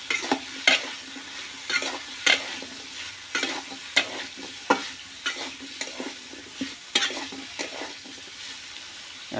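Tula fries with salt and turmeric in a pan, a low sizzle broken by repeated sharp scrapes and clinks of stirring at an uneven rhythm, close by and with no voices.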